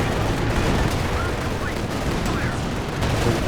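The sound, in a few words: Katyusha rocket barrage in the video game Company of Heroes 2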